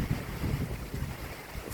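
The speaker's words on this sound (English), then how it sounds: "It's a bad wind." Strong hurricane wind gusts roar steadily with broad, rumbling buffeting across the microphone, a continuous loud rush with no voices.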